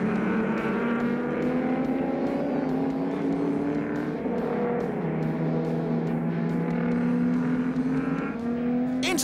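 Volvo and Datsun race cars climb a hill side by side in a historic motor race, their engines droning loudly and steadily as the pitch rises through the gears, two engine notes overlapping close by.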